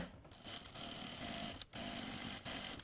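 A sewing machine stitches a sleeve placket along a seam, running as a continuous fast mechanical whir with two brief pauses, quiet and close.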